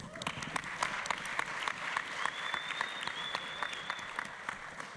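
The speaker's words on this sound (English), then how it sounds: "Let's give another big round of applause to our competitors." Audience at a startup launch competition giving a round of applause, continuous clapping heard at some distance and fairly faint, with a faint background tone.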